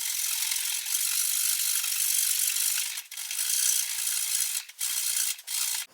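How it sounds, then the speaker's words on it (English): A fine-toothed tenon saw cuts van flooring board with quick back-and-forth rasping strokes, nearly continuous and close, with a few brief pauses near the end. "I'm just using a tenon saw to cut this"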